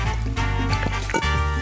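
Liquid sloshes and gulps as water is drunk in a cartoon, close and continuous over about two seconds, with wet swallowing and trickling sounds over music.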